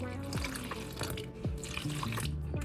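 Warm water runs steadily from a tap or jug into a big mixing bowl of flour for sourdough bread, a soft continuous splashing with a few small drips and bubbles, close and fairly quiet, with no speech.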